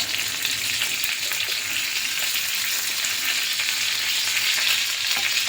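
Slit green chillies and curry leaves sizzle loudly in hot oil for sooji dhokla tempering, a dense continuous crackling hiss close by, with no talking.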